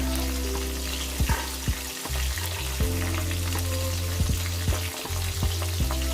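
Prawns frying in a small amount of oil for a Bengali dahi chingri dish, a steady loud close sizzle and crackle with occasional stirring scrapes, no talking.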